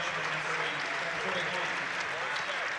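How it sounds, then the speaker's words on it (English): A large crowd in an indoor basketball arena applauds steadily during a college men's game, a dense wash of clapping that holds at the same level throughout. "Well-deserved applause for Otto."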